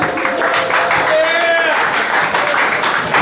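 Comedy club audience applauding at a live stand-up show, a close, loud burst of sustained clapping with whoops and cheers layered over it, some voices rising above the crowd.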